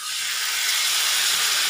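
Water from a ground paste of cumin, coriander and chili, plus a little sugar, sizzles in a hot pan for a taro curry, giving a steady, close, bright hiss with no talk.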